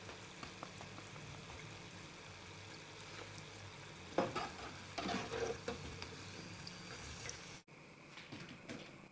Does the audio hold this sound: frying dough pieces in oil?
yes